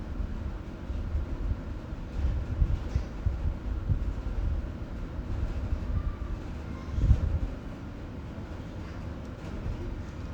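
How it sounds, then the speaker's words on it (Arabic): A Hisense dishwasher runs a wash cycle with its upper and lower spray arms on. It gives a steady low rumbling hum with soft, uneven surges of water sloshing inside, close by and without voices. "هسه بدأت تشتغل الغسالة."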